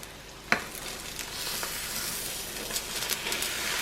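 Turkey frying in a pan with a tortilla, a steady bright sizzle with a sharp clunk at the start and a few small pops, close and continuous with no talk.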